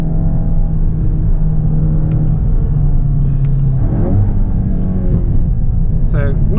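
Engine note of a 2022 Volkswagen Golf GTI Clubsport MK8 accelerating on a hill route, heard from inside the cabin as a steady rumble with rising revs, running continuously under occasional talk.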